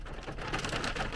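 Steady rain falls at an overland camp along the Rimrocker Trail during a passing storm, a dense, continuous patter with no voices over it.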